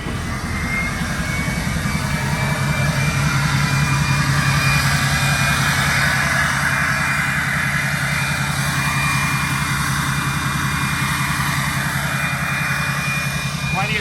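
A head-studded Duramax diesel pickup with a big turbo idles close and steady, a rumbling low drone with a high turbo whine running throughout.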